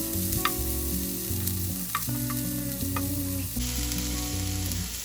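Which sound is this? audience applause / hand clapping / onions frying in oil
onions frying in oil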